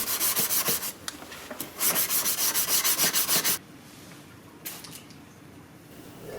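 Rapid, rhythmic scrubbing strokes of hand sanding a forged seax knife blade, loud and close, stopping abruptly midway, followed by quieter scattered rubbing.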